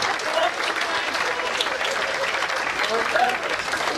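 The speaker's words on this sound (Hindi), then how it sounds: "बजाओ एक बार फिर से तालियां।" An audience at a Haryanvi comedy or speech event claps and cheers in a steady, dense wash of applause that runs the whole time, with a few voices faintly mixed in.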